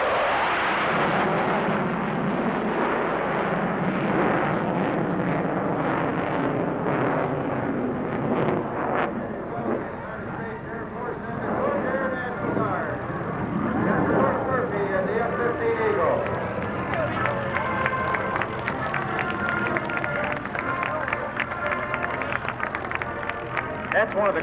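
Jet fighter with F100 turbofan engines climbing steeply at a 1994 air show in Clark County, Indiana, a loud sustained roar that swells and rumbles throughout, with an announcer talking over it.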